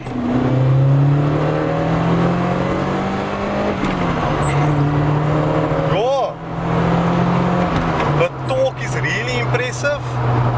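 A Volkswagen Golf R pulls uphill with a strong, steady engine drone whose pitch rises and levels through gear changes, loud and close inside the car while a person talks over it.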